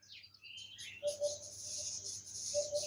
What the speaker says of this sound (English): Yeah, a lot of birds here.